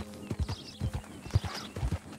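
Horse hooves clip-clopping at a walk in Red Dead Redemption 2, a steady run of close, distinct thuds with a faint whinny-like sound mixed in.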